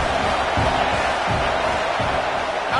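A football stadium crowd cheers and roars as Iowa State plays in the red zone near the 15-yard line, a loud, steady wall of massed voices with surging swells.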